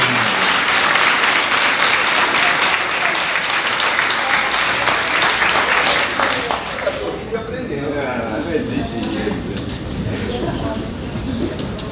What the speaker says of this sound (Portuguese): Recebam com uma palma de palmas, uma salva de palmas de divulgador.